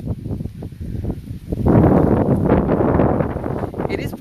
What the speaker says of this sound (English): It is windy today, as you guys probably know.